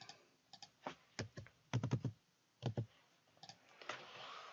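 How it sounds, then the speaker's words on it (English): Computer keyboard typing a date of birth, close and quiet: irregular clusters of keystrokes with brief gaps between bursts, alone without talk. "I'm gonna type a random date of birth for this one."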